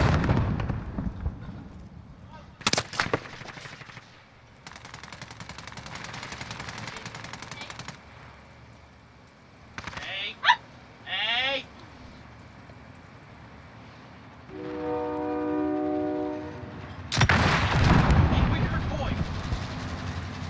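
In Call of Duty Modern Warfare Warzone, rapid machine-gun bursts and loud single shots crack out, followed by a rolling explosion and a final heavy blast, with some voices mixed in.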